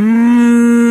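A polled Hereford cow on a cold East Tennessee farm lets out one loud, close, sustained moo lasting about a second, with nothing else heard.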